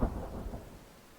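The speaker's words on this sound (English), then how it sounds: "Really? I still have thunder?" Thunder in a hunting video game, a low distant rumble that rolls briefly and fades, with no talking.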